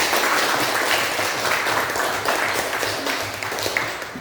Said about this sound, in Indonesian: Ya, kita berikan tepuk tangan.